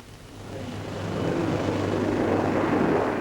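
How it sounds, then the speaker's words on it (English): A Vickers Armstrongs bomber with four Rolls-Royce turbojet engines roars at an airshow, a broad jet rumble swelling louder as it draws nearer. "With her four Rolls-Royce turbojet engines, she's believed still to be the most formidable bomber of her class in the world"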